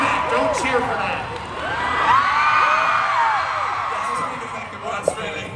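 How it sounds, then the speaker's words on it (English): A live audience at a VidCon performance cheers and whoops steadily, with high shouts and cries rising over a constant crowd roar that swells midway and holds to the end. "Don't cheer for that."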